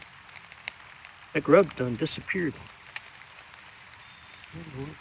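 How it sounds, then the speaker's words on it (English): Steady light rain patters over a small 4x8 fall vegetable garden bed covered with cardboard, a soft continuous hiss beneath someone talking close by. "It is raining."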